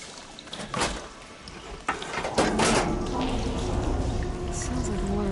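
Water rushes through a pipe after the flow is switched in Horizon Forbidden West: a low, steady gushing swell with a few knocks, rising at about two seconds and holding loud to the end.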